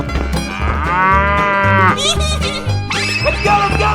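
Cartoonish cow moos from a 3D animal sliding video game, a few long loud bellowing calls one after another over busy game music.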